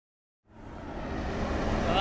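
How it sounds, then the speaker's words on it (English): A combine harvester working in a field: after a brief silence, a steady rumbling engine drone rises and holds, broad and fairly distant, with no voices. "That noise you can hear in the background is the combine."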